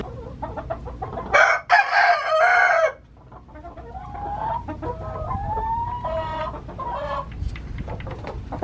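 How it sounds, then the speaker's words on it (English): Chickens cluck loudly and close, with a rooster crowing through the middle, then softer clucking and calls continue, with no talk. "Thanks, chickens."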